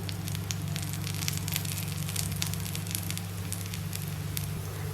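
Vallarai keerai dosa fries in ghee on a pan with a steady, close crackling sizzle and a low constant hum underneath, uninterrupted throughout.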